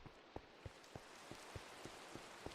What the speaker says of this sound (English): authentic medieval run through the countryside in the rain